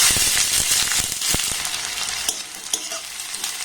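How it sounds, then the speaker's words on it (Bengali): Chopped onion and three green chilies fry in hot oil, a steady loud sizzle throughout with stirring scrapes and a few sharp clinks of the spatula against the pan. "পেঁয়াজ আর লঙ্কাটাকে এবার একটু হালকা নাড়াচাড়া করে ভেজে নেব।"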